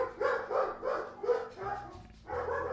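A dog barks in a quick series of about five sharp, fairly close barks, then gives a couple of softer yips toward the end, with a low steady hum running underneath.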